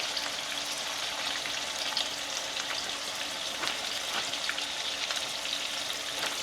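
Salmon fillet frying in a pan for a quick weekday dinner, a steady close sizzle with faint crackles and pops throughout, no talking.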